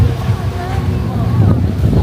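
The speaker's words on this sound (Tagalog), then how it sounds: "medyo malakas na yung hangin" Loud, steady coastal wind at Canyon Cove beach in Nasugbu, Batangas, rushes across the microphone in a continuous low rumble, with faint voices of a crowd in the background.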